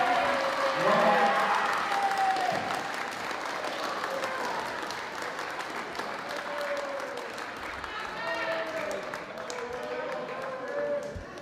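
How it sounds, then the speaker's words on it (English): Audience applause with scattered cheering at a school drama send-off show, a steady crowd of clapping hands filling the room throughout, with some voices and whoops rising over it toward the end. "let's give a round of applause for our"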